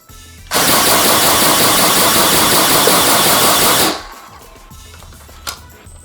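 A Nerf AEG Colonel Wasp 76 MP40 fires full auto in one continuous, loud, buzzing burst that empties the magazine in roughly three and a half seconds, then stops and leaves quiet handling noise.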